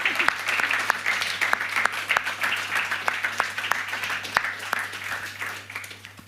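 An awards-ceremony audience applauds nominees and winners at the close of the first GACO Awards, a steady, dense round of clapping from many hands that carries on throughout with no voices over it.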